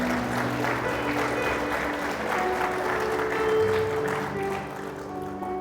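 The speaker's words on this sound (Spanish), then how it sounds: "Sí, aplauda al Señor" A church congregation applauds together during a sermon, a steady wash of clapping at moderate distance that swells slightly and then fades.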